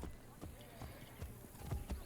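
Horse hooves clip-clopping in the video game Assassin's Creed Brotherhood, a faint irregular patter of hoof knocks under game ambience and a voice talking.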